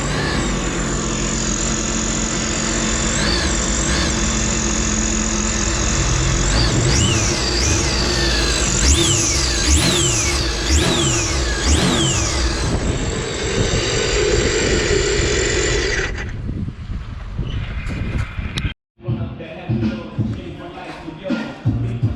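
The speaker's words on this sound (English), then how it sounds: "The ski idled fine, it revved up fine." A jet ski, newly fitted with a rebuilt engine after timing chain trouble, idles and then revs in repeated rising pulls during a water test. The engine note is loud and close before it cuts off near the end, with people talking in the background.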